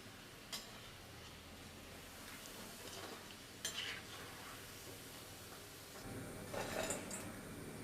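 Chana dal pakodis deep fry in oil in a small kadai with a soft, steady sizzle, broken by a few sharp utensil clinks and stirring scrapes near the end.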